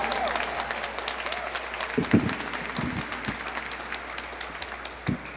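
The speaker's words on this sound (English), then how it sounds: "All right, let's give Mattie Scott another round of applause." A crowd at a Women's History Month celebration applauds in a steady patter of claps at moderate distance, with a few louder, nearer claps and faint background murmur.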